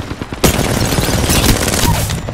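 Sustained rapid gunfire in the video game Apex Legends, shooting through and breaking an enemy's castle shield, loud and continuous after a short quieter start, with a sharp impact near the beginning.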